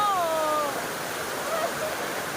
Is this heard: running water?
yes